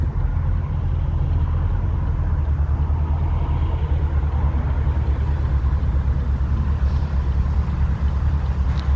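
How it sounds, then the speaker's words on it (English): A 2014 Chevrolet Camaro SS 1LE V8 pulls through a second-gear roll-on, a loud, steady low engine rumble heard from inside the car, rising slightly without a break. "Now we'll do a little second gear roll on."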